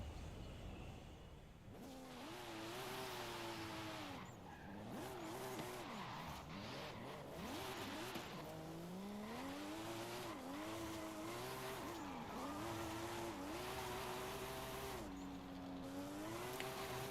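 An old Toyota Supra drifts in Forza Horizon 5, its engine revving up and down in wavering pitch sweeps while the tires squeal. The sound is loud and continuous, with brief lifts between slides.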